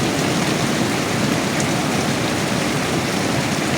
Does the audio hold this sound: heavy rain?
yes